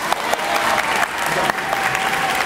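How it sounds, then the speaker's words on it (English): An audience claps steadily through a middle school honors ceremony. The applause is dense and sustained, with a few sharper individual claps standing out and faint voices beneath. "you can clap whenever you hear someone's name"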